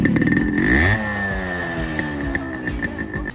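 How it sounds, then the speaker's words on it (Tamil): A Yamaha RX 100 motorcycle engine revs up sharply, then drops back to a rattly, uneven idle with a few small throttle blips. It is loud and close. "இப்போ வாங்க இதோட RX-ஓட சவுண்ட் கேட்கலாம்."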